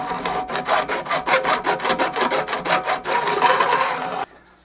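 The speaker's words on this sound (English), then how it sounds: "Now we're going to take this little safe edge file here, work on the ends of these frets." A small safe edge file rasps across the fret ends of a banjo being refretted, a steady run of about fifteen close, evenly spaced strokes that stops abruptly near the end, with no talk.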